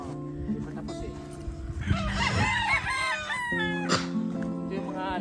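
Roosters crow and chickens cluck nearby on a farm in Legazpi, Albay, several calls overlapping. People talk in the background.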